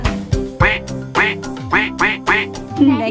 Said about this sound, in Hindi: ये बतख की आवाज है।